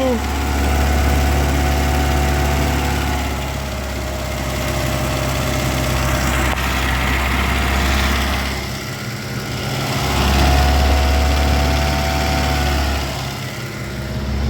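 A GAZ-24 car engine idles on gas fuel, a loud, steady low rumble with a faint rhythmic sway in level, heard up close and alone throughout.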